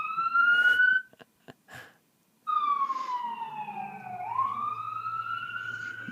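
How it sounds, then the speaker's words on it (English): An ambulance siren wails past a hearing room, loud and close, breaking off briefly before resuming with a long falling then rising sweep as it moves by. "we got an ambulance coming by"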